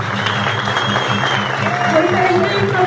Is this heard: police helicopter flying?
no